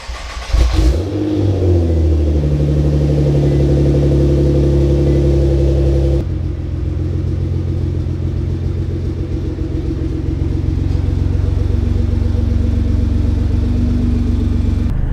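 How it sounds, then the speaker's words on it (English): A 2015 Nissan GT-R with aftermarket exhaust fires up cold with a sharp burst and settles into a loud, deep rumbling idle, shifting to a slightly lower, throatier tone partway through. "Here's a cold startup of a 2015 Nissan GTR with Grady exhaust."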